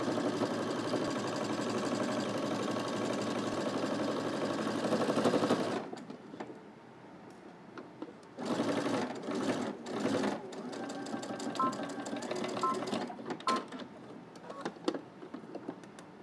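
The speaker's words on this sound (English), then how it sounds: "let's head to the machine and we're going to stitch starting on one end and going all the way across to the other end" A sewing machine runs steadily while stitching a 5/8-inch seam allowance on a Simplicity S3010 garment, a loud continuous whir at first, then stopping and starting in shorter bursts with quiet gaps between.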